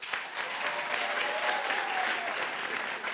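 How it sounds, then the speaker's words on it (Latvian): A studio audience at a late-night talk show claps steadily as a vote, a dense, even wash of applause that holds from start to finish with a voice faintly underneath. "Tie, kas domā, ka Ilves izšķiries,"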